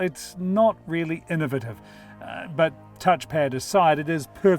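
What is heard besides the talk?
No everyday noise stands out behind the speech.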